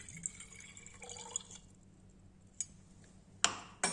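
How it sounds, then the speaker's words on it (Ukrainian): Water trickles and splashes into a glass conical flask, 100 ml poured from a volumetric flask for water analysis, with a few sharp clinks of glass near the end. "У конічну колбу за допомогою мірної колби наливають 100 мл води для аналізу."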